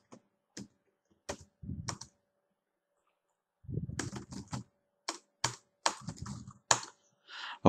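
Someone types a company address on a computer keyboard, with scattered single key clicks at first, then quicker runs of close, crisp taps separated by pauses.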